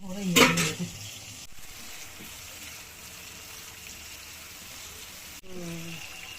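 Chopped onion and green chili frying in oil in a home kitchen, a steady close sizzle and hiss running throughout, with a brief burst of clatter or a voice at the start and a soft bump near the end.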